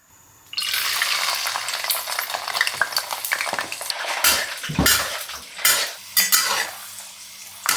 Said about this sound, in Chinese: 下油，清洗好的花生米，冷油下锅。